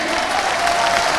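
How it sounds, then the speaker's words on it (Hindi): Brief burst of crowd applause at an Indian election rally, a dense, even clatter of many hands with faint cheering mixed in, loud and continuous throughout. "अरे तालियां कमजोर हैं आपकी।"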